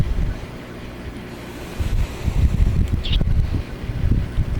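A vintage late-1970s/early-1980s blue Galaxy 2150 12-inch oscillating table fan running on low speed gives a steady, soft airy whoosh with a low rumble, continuous and close, with no talking.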